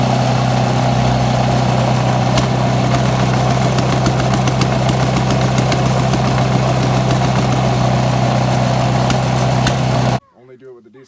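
A 1979 Sian single-cylinder diesel engine runs loud and close with a steady, thumping chug and mechanical clatter, then cuts off abruptly near the end, leaving a brief quiet.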